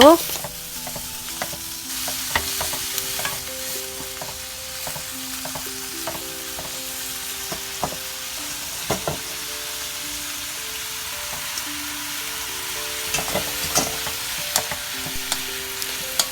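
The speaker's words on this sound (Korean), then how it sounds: "소고기의 색이 갈색으로 변할 때쯤 미역을 넣고 다시 볶아주세요" Beef and seaweed stir-fry in sesame oil for Korean seaweed soup, giving a steady moderate sizzle punctuated by repeated sharp scrapes and taps of a spatula, with no speech.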